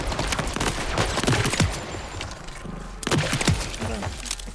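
Rapid bursts of gunfire in the Borderlands 4 video game, loud and close, with sharp repeated shots, brief gaps and impact clatter.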